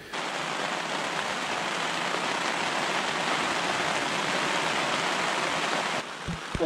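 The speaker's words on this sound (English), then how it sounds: "Well, it's raining." Rain falls on a tent while backpacking in a backcountry park, a dense, steady hiss of drops on the fabric close overhead that cuts off abruptly near the end, followed by a couple of soft knocks.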